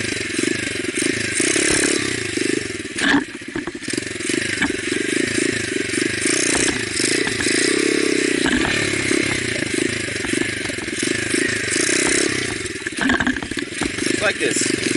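A motorcycle engine revs and drops repeatedly during wheelie practice with clutch pops and braking, the close, rattly motor surging and easing in uneven bursts throughout.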